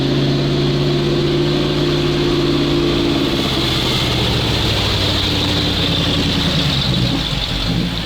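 A GAZ-66 truck engine labors on rough off-road ground, a loud, steady, heavy drone that runs without a break, its pitch shifting lower as it strains partway through.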